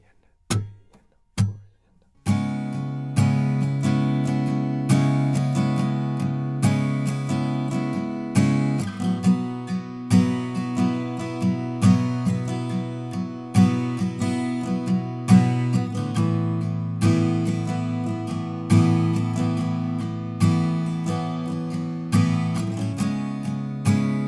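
Acoustic guitar strums the intro chords of a song, a steady rhythmic pattern of close, bright strokes that begins after a few single hits and continues evenly throughout.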